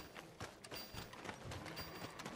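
Horse hooves clip-clop in a Red Dead Redemption 2 scene, a steady run of fairly loud, close hoofbeats over a busy, noisy game soundscape, with no talking.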